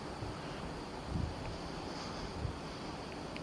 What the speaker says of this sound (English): that wind is really starting to pick up again now